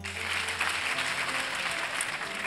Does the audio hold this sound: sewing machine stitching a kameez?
no